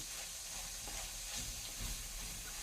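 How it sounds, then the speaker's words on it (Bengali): A spice paste of turmeric and chilli powder sizzles steadily in hot oil in a pan, a continuous close hiss of frying for a village-style magur fish curry, with no talk. "এখন ধীরে ধীরে মশলাটা কষাতে থাকুন।"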